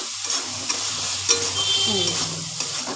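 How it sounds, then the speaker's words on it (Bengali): Prawns sautéed with spices in a pan, with a steady close sizzle and frequent scraping strokes of a spatula stirring them, continuous and free of talk. "এবার আমি ভালো করে চিংড়ি মাছগুলোকে এর সাথে কষিয়ে নিচ্ছি"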